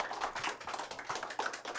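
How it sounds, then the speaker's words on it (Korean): A lecture audience in a library talk applauds to welcome the speaker, with steady, faint hand clapping from a modest crowd throughout. "큰 박수 부탁드릴게요."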